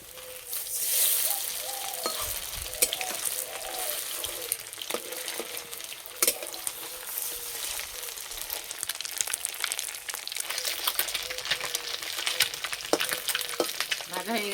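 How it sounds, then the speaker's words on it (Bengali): Egg puri frying in hot oil, a steady, close crackling sizzle that runs throughout, with occasional sharper pops and clinks as the puri is turned. "একটু ভাজা হলে তারপর উল্টে দেবো"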